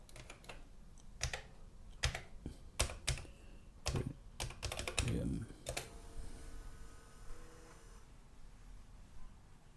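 Keys being typed on an Amstrad computer keyboard, a quick burst of sharp clicks then a steady run of separate keystrokes up close, with faint background hum.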